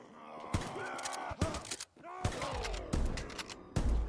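Gunfire from a gun in the shooter game RICO, several sharp loud shots spaced about a second apart, each with a short tail, over a steady background of game noise and groaning voices.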